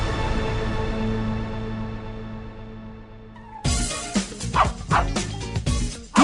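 A dog yips and barks in short, uneven bursts just after a sustained musical tone ends, loud and close.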